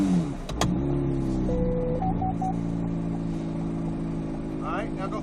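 Corvette C8 Z06 stuck on ice, easing into reverse with a low, steady engine idle and tonal whine close by, a brief rising chirp and faint clicks over the hum.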